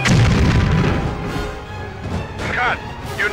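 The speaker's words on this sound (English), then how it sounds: "Explosion!" A loud explosion bursts in the PS2 stunt-driving game Stuntman, a heavy low boom at the start that rumbles on beneath game effects and a voice, with brief higher screeches near the end.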